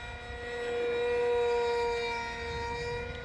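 An RC Powers MiG 29 V4 model jet flying a roll gives a steady, tonal electric whine that swells as the plane passes nearer, then eases off, heard alone at moderate distance.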